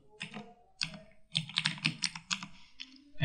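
Close, quiet keystrokes on a computer keyboard, a short burst of typing a name into a LinkedIn profile form, irregular quick taps with small gaps and no talk.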